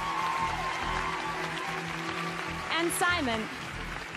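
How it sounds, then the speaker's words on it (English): An audience at a live stage performance claps in a steady wash of applause while a person speaks over it. "It's your applause."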